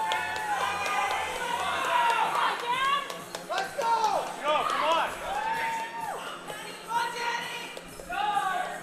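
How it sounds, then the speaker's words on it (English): A vocal crowd at a Canadian powerlifting championship cheers, claps and whoops around a deadlift. The noise is loud, continuous and excited, with shouts and whistles rising and falling over it. "Very vocal crowd, full of fans here for Danny today."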